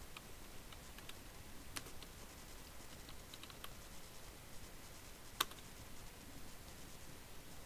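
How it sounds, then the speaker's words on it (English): Quiet, scattered keystrokes on a computer keyboard tick faintly over low background noise, with one sharper click standing out partway through. "we're going to go ahead and type in the help command within NIPPER"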